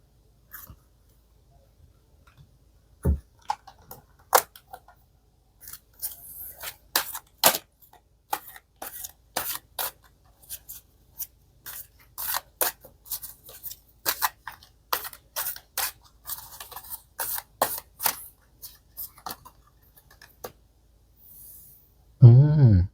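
Tarot cards flipped and laid down one by one on a table during a pick-a-card reading, soft crisp snaps and slaps in an irregular sequence, close and quiet, with a louder thump at the end.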